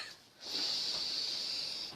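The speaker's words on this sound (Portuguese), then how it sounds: "vamos respirar." A single long, deep breath taken as a breathing exercise makes an airy hiss that starts after a brief pause and holds steadily, close and fairly soft, with no speech.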